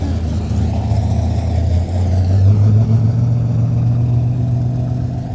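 A car engine revs and pulls away as it leaves an outdoor car show cruise-in, a loud steady drone that climbs in pitch partway through and holds, with no talk over it.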